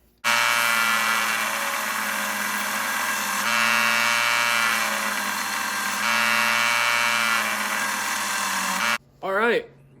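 Electric grinder shaping small forged metal dice toward roughly 10 mm squares, a steady loud whine running continuously for several seconds with slight shifts in pitch, then stopping abruptly before a brief spinning-down sweep.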